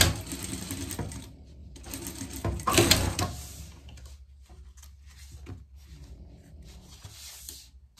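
A sewing machine stitches a seam on a rain cape in bursts of steady mechanical whirring, with brief pauses between runs, loud and close.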